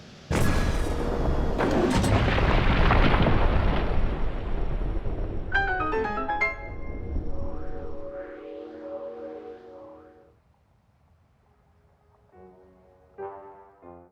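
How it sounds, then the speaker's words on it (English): Cannon firing in Breath of the Wild, a heavy booming blast that rolls into a long rumbling decay, followed by game chimes and musical tones as the noise fades out. "That's Boss's cannon! Don't you dare touch that lever!"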